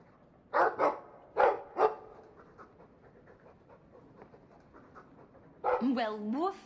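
A dog in the video game Dragon Age 2 gives a few sharp, close barks, then goes quiet before panting rapidly and audibly near the end.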